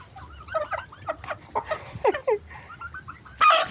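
Several chickens cluck and chatter nearby in short, irregular bursts, ending with a louder squawk.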